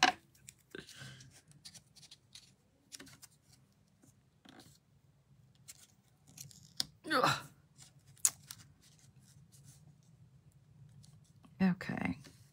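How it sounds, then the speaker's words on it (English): Scissors snip through card stock while making a handmade Stampin' Up greeting card. The cuts are quiet, short snips and rustles amid paper handling on a craft table, with soft talking in between. "Let's cut it, Jean."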